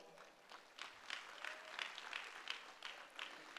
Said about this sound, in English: So give it another round of applause